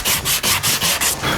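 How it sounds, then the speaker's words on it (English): A fiberglass repair on a car body is being sanded, following the body's contour. Seven quick, even back-and-forth rasping strokes come from close by, with no talking. "This last area here, we're gonna sand down, going with the contour"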